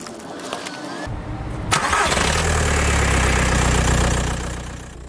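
A Skoda Fabia car engine cranks briefly and catches, then settles into a steady, close idle for several seconds before easing slightly at the end.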